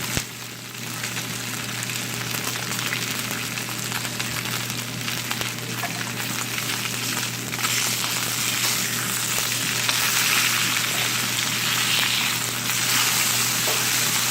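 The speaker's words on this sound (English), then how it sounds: "I just want to do a quick sear on it" Opah fillet searing in a hot pan before finishing in the oven, giving a steady, loud, continuous sizzle and crackle that fills the whole stretch with no talking.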